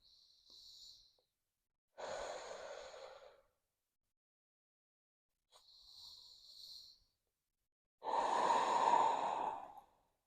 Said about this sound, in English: Couple of breaths here.